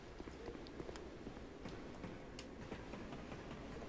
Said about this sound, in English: I'm hearing that train.